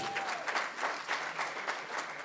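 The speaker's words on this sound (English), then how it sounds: "So round of applause for all of you" A crowd applauds at a gathering in Dallas, a steady wash of clapping heard at a moderate distance and fairly quiet throughout the short stretch.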